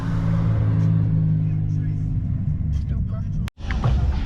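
A Toyota Supra turns around at a packed car meet, its engine rumbling steadily at close range beneath nearby talk, with a brief sharp break near the end.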